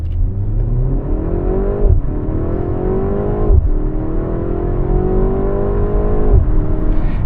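A BMW M135 with all-wheel drive pulls away from a speed bump. Its engine revs loud and close, rising through the gears with two or three brief dips at the shifts, and no voices are heard.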